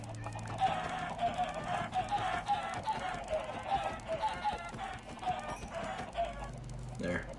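Minecraft chickens cluck in a rapid, repeated chorus that runs through most of the stretch, fairly close, over a low game background.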